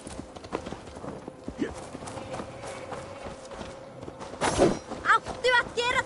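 Horse hooves clip-clop at a walk and break into a run in an Assassin's Creed game, a string of sharp knocks with thuds and a snort near the end, while a voice talks over them.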